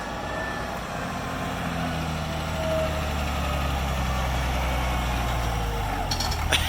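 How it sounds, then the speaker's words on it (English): A rat rod tow truck built with a semi truck rear end idles steadily nearby, its low engine rumble continuous and even throughout, with no talk over it. "This is the coolest rat rod ever. I think it has an actual semi on the back."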